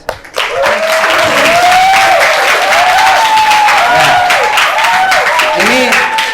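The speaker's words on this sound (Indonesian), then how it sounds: "Tepuk tangan." Students at a school Ramadan study session break into loud, sustained applause, many hands clapping steadily while a voice sings or talks over it throughout.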